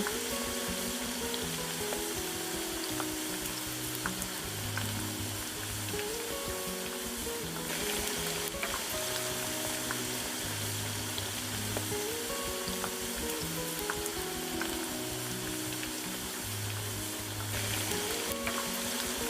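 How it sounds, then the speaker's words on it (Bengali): Potato pakon pitha deep-frying in plenty of hot oil, a continuous dense sizzle and bubbling that stays steady throughout, close and fairly loud, with some soft background music-like tones under it. "তেল গরম হওয়ার পর আমি একে একে সবকটা পিঠা পেনে দিয়ে দিব"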